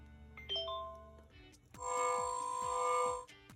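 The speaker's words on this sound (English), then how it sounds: "Baggage X-ray." An electronic airport baggage X-ray machine effect from a Paw Patrol sound book plays chiming tones followed by a sustained whirring hum with rhythmic pulsing beeps, clear and close.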